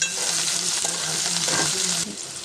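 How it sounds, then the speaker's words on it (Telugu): Green chillies sizzle in a hot pan while being stirred, a steady close hiss with a few brief scraping strokes and no voices. "కొద్దిగా పచ్చిమిర్చి అవి వేగేంత వరకు కలుపుకోవాలి."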